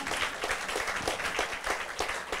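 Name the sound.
congregation applauding in church service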